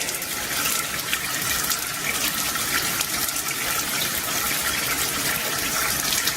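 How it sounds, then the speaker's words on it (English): Oil rushing through an opened ball valve and draining into a tank, a continuous loud gushing pour that stays steady throughout, close by and with no talk. "we want to open up the ball valve slowly. And we want all the oil to drain into the tank."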